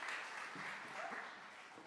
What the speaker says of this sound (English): Thank you, and a round of applause.